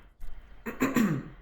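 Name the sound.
throat clearing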